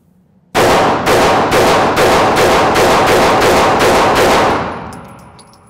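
An HK CC9 ultra-compact pistol fires at a shooting range: a rapid, evenly spaced string of about nine loud, close shots, each a sharp crack with a brief ringing tail, fading into echoing decay.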